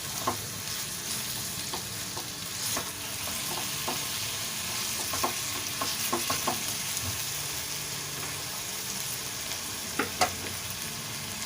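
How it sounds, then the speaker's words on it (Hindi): Grated carrot frying in ghee over a raised flame for gajar halwa, a continuous soft sizzle with scattered light scrapes and taps of a spoon stirring through the pan, steady and moderately quiet throughout. "फ्लेम थोड़ा सा तेज़ कर लें और घी के साथ इसको फ्राई करें।"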